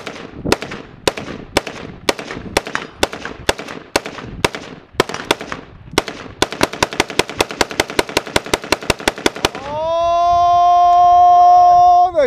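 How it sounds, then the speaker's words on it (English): A Kel Tec RDB and an IWI Tavor bullpup rifle fire rapid shots in a side-by-side mag dump, sharp loud cracks speeding into a fast string, then a ringing steady tone at the end. "just at that moment where we're about to do a side-by-side mag dump"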